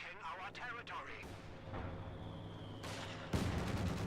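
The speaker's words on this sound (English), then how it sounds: "the mortar squad is opening up on a heavy machine gun here for Spitfire" Mortar fire and other battle noise from the World War II strategy game Company of Heroes 2, a 2v2 match on the Crossing in the Woods map. Dense, continuous combat sound with a sharper burst near the end and no talk.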